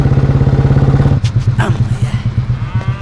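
An old engine fitted in a new-looking motorbike runs at a steady, loud, close-up putter, a rapid rhythmic thumping that briefly shifts in tone partway through.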